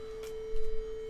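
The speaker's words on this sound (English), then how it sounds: "So now the phone is playing in 440 Hertz sine wave." A 440 Hz sine wave plays from a phone speaker as one steady, unbroken pure tone, moderately loud throughout. A brief soft rustle or handling noise sits underneath it.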